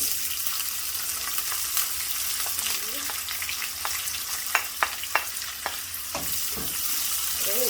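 Onions sizzle loudly in plenty of hot oil after browned garlic, a dense continuous hiss with scattered sharp pops and spatters, close up and without voices.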